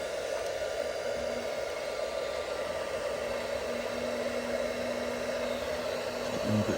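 A hot-air blower or heat gun runs with a steady, continuous whooshing hum, directing heat at a Fiat 500 electrical joint to make the solder flow, with no voices over it.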